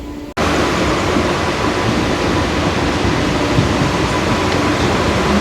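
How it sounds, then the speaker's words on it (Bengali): A train pulls out of Azimganj Junction bound for Rampurhat, a loud, dense rumble of wheels and carriages that starts abruptly and roars on continuously, close by. "আজিমগঞ্জ থেকে ট্রেন ছেড়ে দিল রামপুরহাটের জন্য"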